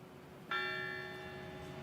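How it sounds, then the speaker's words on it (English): A fire station bell at a volunteer fire company's station dedication ceremony sounds a single clear strike, and its bright ringing tone lingers and slowly fades in a quiet outdoor setting. "We're going to ring the bell a second time"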